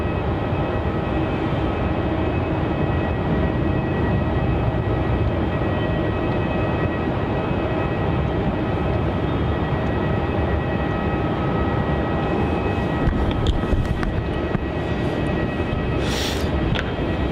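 An aircraft takes off from runway 27 at Melbourne Airport, a loud, steady, broad engine roar that holds constantly from a middle distance with no talk.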